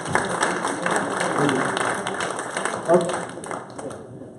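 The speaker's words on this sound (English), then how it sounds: "Let's get a round of applause for David." Audience applause at a seed-funding startup event, a steady wash of clapping across the room with voices mixed in, swelling briefly near the end before thinning out.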